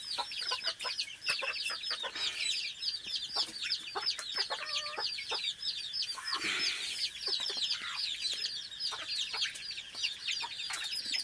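In a simple rural nursery pen, game-fowl chicks and village chicks cheep in rapid, overlapping high peeps while chickens cluck now and then, a busy, continuous chorus without speech.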